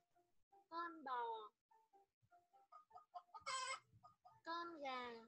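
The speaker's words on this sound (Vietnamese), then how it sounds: "Con gà." A domestic chicken clucks near and fairly loud in short repeated calls, with voices speaking around it.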